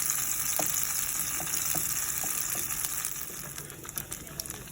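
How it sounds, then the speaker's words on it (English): Oatmeal patties fry in hot oil, a steady close sizzle and crackle with small pops scattered through it, easing slightly toward the end. "I usually add about 3 patties to the hot oil and make sure not to overcrowd them."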